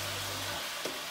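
Chicken chop suey cooking on a stove gives a brief, steady sizzle, with a low hum fading out partway through.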